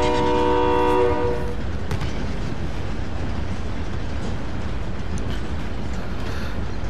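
In the video game Call of Duty: Modern Warfare, a train horn blares with a sustained chord for about a second, then a steady loud rumble of rolling rail cars continues without pause.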